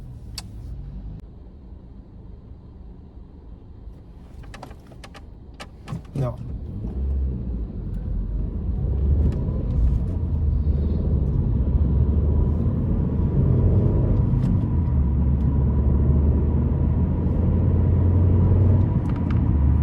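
A car pulling away and accelerating on a road, its low engine rumble building steadily from quiet idle into a louder, sustained drone with some faint clicks early on.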